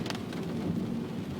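Rain and wind during Hurricane Sandy make a steady, dense roar of falling water and gusting air that fills the whole moment with no pauses and no voices.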